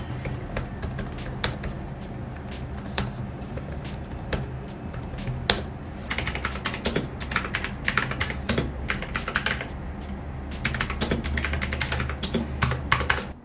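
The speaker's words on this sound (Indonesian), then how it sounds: "ini adalah perbandingan suaranya dengan mechanical keyboard" Typing on a low-profile scissor-switch keyboard, followed by a mechanical keyboard for comparison: a sparse run of crisp close keystrokes, then denser, louder clacking bursts in the second half, with no talking.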